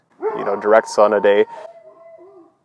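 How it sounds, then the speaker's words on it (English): A pet dog howling and whimpering in the background, a drawn-out yowling that rises and then trails off into a thin whine while a person talks over it. "that's my dog"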